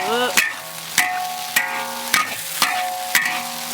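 Spicy beef tripe with chilies being stir-fried in a wok: a steady sizzle broken by sharp, regular scrapes of the spatula roughly every half second, close and clear with no talking.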